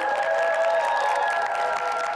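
A short burst of audience clapping, a dense even patter of many hands with faint crowd murmur.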